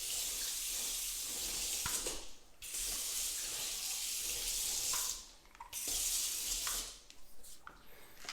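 Tap water runs in three long bursts to rinse a chemical resistance test panel, a steady hiss and splash broken by short pauses, close by.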